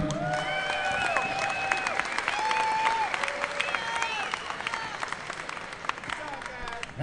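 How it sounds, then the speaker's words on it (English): Crowd applause after a fight at a combat sports event, a continuous spread of clapping and some cheers heard under an announcer's amplified voice and other voices throughout. "let's give a big round of applause to both these fighters"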